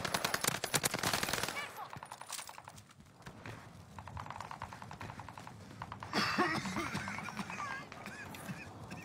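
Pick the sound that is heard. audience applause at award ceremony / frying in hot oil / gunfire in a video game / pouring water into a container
gunfire in a video game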